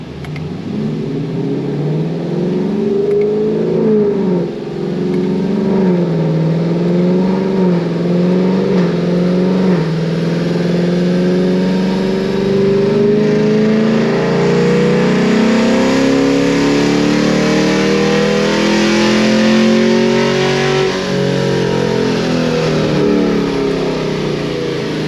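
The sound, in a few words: car engine revving on dyno with headers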